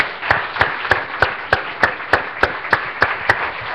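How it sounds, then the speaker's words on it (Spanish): Church congregation at a Spanish-language worship service clapping together in a steady, even rhythm, about three claps per second, sharp and fairly close with no voices over it. "démosle un aplauso al Señor, hermano"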